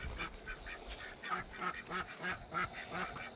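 Ducklings quacking in a farmyard among geese, a turkey and other fowl, a busy overlapping run of repeated honk-like calls at moderate distance with no talk.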